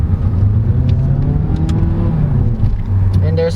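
A Mazda 3 Premium hatchback engine pulls hard in manual mode, a loud steady drone rising in pitch inside the cabin and dipping briefly around a gear change.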